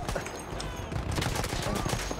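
Gunfire in Battlefield 1 during a World War I battle, rapid overlapping rifle and machine-gun shots forming a dense, loud fusillade with someone speaking under it.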